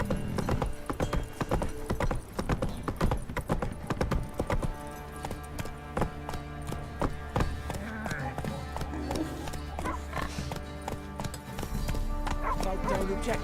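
A horse gallops in The Witcher 3: Wild Hunt, its rapid clip-clop hoofbeats loud and continuous, with a whinny partway through and game voices speaking over the running hooves.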